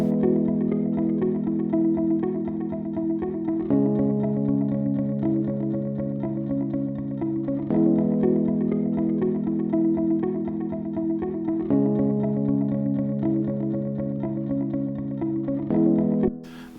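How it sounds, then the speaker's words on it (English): Palm-muted electric guitar played through effects, with chorus and distortion, for a corporate-style track. A steady chugging low pattern repeats with chord changes about every four seconds, loud and alone. "I wouldn't say corporate, but a little bit of a palm muted kind of a corporate vibe"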